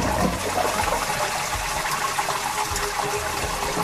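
Toilet flush sound effect: a loud, rushing gush of water swirling and draining continuously, heard alone without speech.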